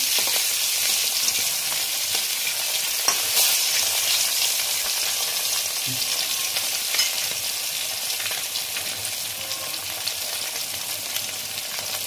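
Boroli fish frying in hot oil in a pan as the pieces are turned over, a constant close sizzling hiss broken by a few soft knocks and scrapes of the spatula.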